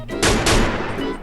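Short burst of M60 machine gun fire in a video game, the original firing sound: a couple of loud, harsh cracking shots in quick succession with a rough, distorted tail.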